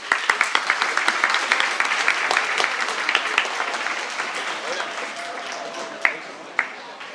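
An audience at a high school sports awards ceremony applauds the track team, with sustained, fairly loud clapping from a crowd that gradually fades, plus a few sharper claps standing out near the end.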